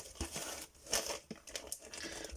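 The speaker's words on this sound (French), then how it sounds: "les bruits d'ouverture de scotch de papier" Crinkly, papery crackling and short ripping sounds come in uneven bursts up close as paper tape is slowly peeled open.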